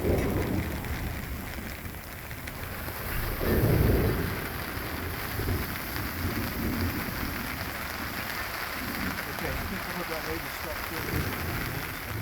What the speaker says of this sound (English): it was still raining and we wanted to stay dry